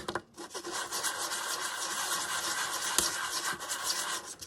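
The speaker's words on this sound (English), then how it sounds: "Now, I will sand this a little bit." Steady scratchy rubbing of sandpaper against a small piece of polymer clay, continuous back-and-forth strokes at close range, with no voices.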